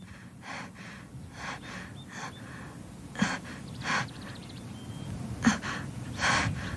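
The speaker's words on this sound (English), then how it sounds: "The fox gasped." A dying fox gasps and snorts in several sharp, breathy bursts spaced a second or so apart, close and fairly faint over a low background hiss.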